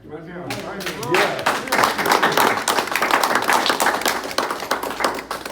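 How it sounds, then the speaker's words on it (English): A round of applause at a 50-year anniversary celebration, rising from a few quick claps into a full, lively crowd clapping that stays loud and dense, with some voices mixed in. "one thing I haven't heard here is a round of applause for"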